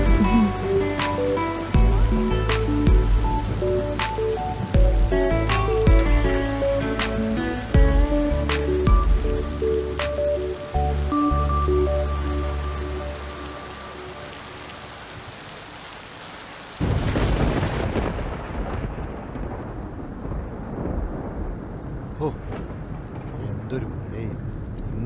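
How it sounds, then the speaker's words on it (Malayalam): Heavy rain with thunder in a Kerala setting, a dense steady downpour with low rumbling swells across the first half, then a sharper, rougher burst of rain noise later, with speech over it. "എന്തൊരു മഴയത്! ഇന്നലെ പിടിച്ച മഴയാണ്."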